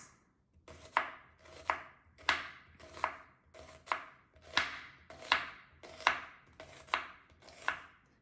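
A knife chops through a large onion on a board in about ten evenly spaced, crisp strokes, each a sharp close-up thud with a short tail.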